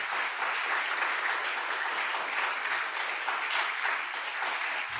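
A church congregation at a Korean Sunday service applauds the outgoing youth council, a steady, even round of many hands clapping throughout with no speech over it.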